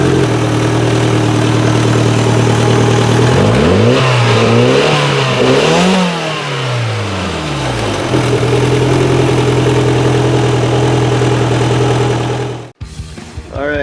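A Toyota MR2's 3S-GTE turbo engine idles loudly up close, then revs up and down in several rising and falling sweeps before settling back to a steady idle, ending with a sudden cut and rattling handling noise.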